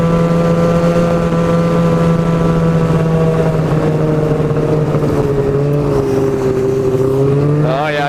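A snowmobile runs steadily along a muddy snow trail, its engine drone loud and close throughout with a slight shift in pitch near the end.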